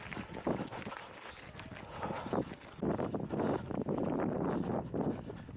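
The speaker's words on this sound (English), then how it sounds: "As you can hear, the wind is really picked up across this nice open park" Gusty wind buffets the microphone across an open park in Haywards Heath during a 10-mile race, a rough roaring rush rising and falling, with rhythmic running footsteps underneath.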